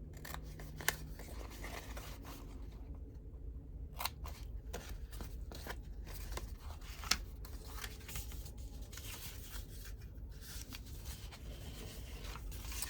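Scissors trimming paper for handmade envelopes, a few soft snips and rustles close by over a steady low hum of room noise, with a couple of sharper clicks along the way and no speech.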